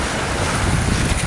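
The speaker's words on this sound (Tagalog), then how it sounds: "Yan ang dagat." Sea waves wash around at Sharp Island Beach in Hong Kong, a loud, broad rushing surge mixed with heavy wind buffeting the microphone, with no voices.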